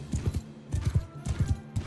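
Cavalry horses trot in a Mount and Blade II: Bannerlord battle, giving clusters of quick hoof clip-clops in repeated rhythmic bursts, moderately close with faint background noise.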